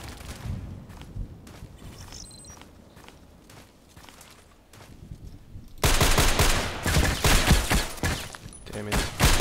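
Rapid bursts of sniper rifle and automatic gunfire in a video game, quieter scattered shots and footsteps at first, then a loud dense barrage of overlapping shots filling the second half.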